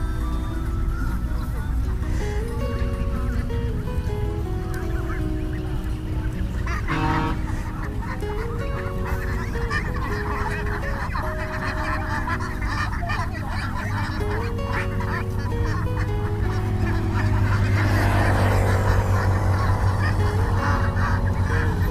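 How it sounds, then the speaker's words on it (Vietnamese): A flock of black-feathered domestic ducks calling noisily, with repeated honking quacks overlapping continuously over a steady background hum. "Đây là vịt Hòa Lan quý vị."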